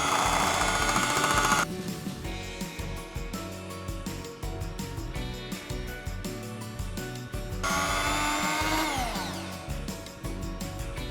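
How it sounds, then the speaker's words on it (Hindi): An electric beater whirs steadily as it mixes milk into orange cupcake batter, a loud, continuous motor drone with a buzzing, drill-like tone that shifts slightly in pitch partway through. "सेम उसी तरीके से बीटर की मदद से हम इसको मिक्स कर देंगे।"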